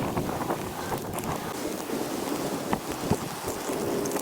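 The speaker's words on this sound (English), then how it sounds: "The Determined Fisherman's determination to catch fish was diminished by the incoming rain" Steady rain falling over the Hillsborough River, with gusting wind buffeting the microphone and a couple of soft thumps, a continuous wash of noise with no voices.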